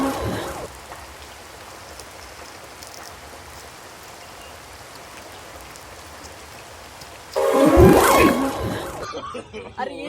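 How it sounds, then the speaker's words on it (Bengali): Steady rain falls on surfaces at moderate loudness for most of the stretch, then a loud voice bursts in over it near the end, in a Medinipur comedy setting. "আরে এই বৃষ্টিটা খালি যায় আর আসে"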